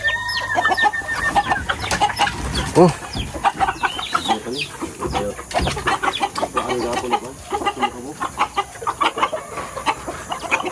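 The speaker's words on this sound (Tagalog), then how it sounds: "Dami niyang alang manok, oh." Several chickens cluck busily at close range, with a rooster-like call among them, while a person speaks briefly over the flock.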